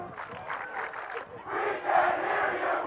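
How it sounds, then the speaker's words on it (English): Student crowd at a high school football game between Woodberry Forest and Episcopal, chanting and yelling in rhythmic bursts that swell louder in the second half, heard from across the field. "You hear the chanting crowd from Woodberry Forest yelling at their counterparts from Episcopal."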